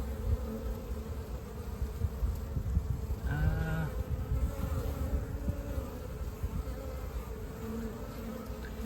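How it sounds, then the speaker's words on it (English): A steady swarm of honeybees hums at a hive entrance, a constant close buzzing with individual bees whining past now and then. "See the bees that are zipping in and out?"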